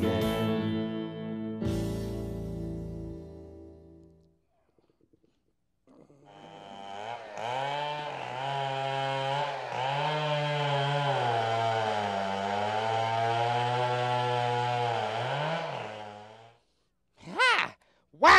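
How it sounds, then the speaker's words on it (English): A toy chainsaw buzzes with a whiny, wavering motor tone for about ten seconds, loud and close, after brief sounds and a pause, with a short burst at the end. "This is a great toy chainsaw."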